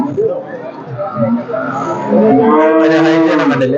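A tall, large buffalo moos loudly at a busy Christmas-day cattle market, a long, drawn-out bellowing call up close with people talking and crowd babble around it.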